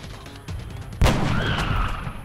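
A sniper rifle fires once in XCOM: Enemy Unknown, a loud sharp crack with a heavy boom that rolls into a long echoing tail.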